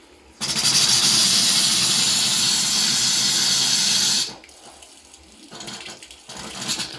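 Water gushing from a pipe while air is bled out of the line after a hot water heater replacement, a loud steady rush lasting about four seconds before cutting to quieter sputtering and background noise.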